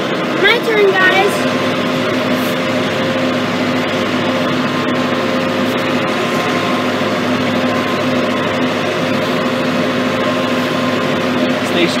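A tractor engine runs steadily in a field during planting of Italian rye grass, a constant humming drone with low throb heard close by, while people talk over it.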